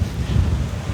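Blustery outdoor wind buffets the microphone with a steady low rumble for the whole second, loud and close, with no voice.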